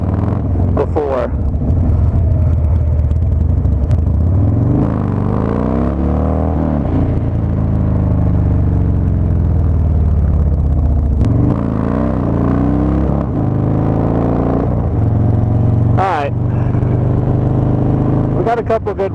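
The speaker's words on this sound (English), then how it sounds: "I'm starting to see more and more trucks come in." Heavy trucks and cars rumble past on a road at a summer Dyna motorcycle gathering, a continuous loud engine drone with revving swells and passing vehicles throughout, with people talking in the background.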